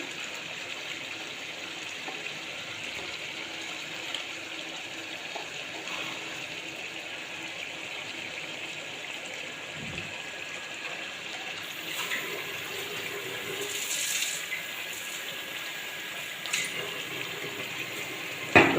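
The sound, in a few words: pouring hot water into chicken curry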